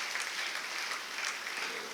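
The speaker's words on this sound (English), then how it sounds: "I would like you to give a big round of applause to Reverend Father Prasahanth Madtha S.J." Sustained applause from an audience at a felicitation programme honoring a Jesuit priest, a full even roar of many clapping hands without speech, fairly close and steady for the whole stretch.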